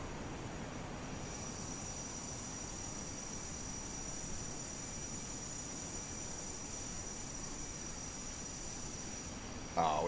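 Airplane thrust reversers roaring on landing in Microsoft Flight Simulator, a steady, broad, unbroken rush of engine noise held at an even level throughout, with a brief bump at the very end.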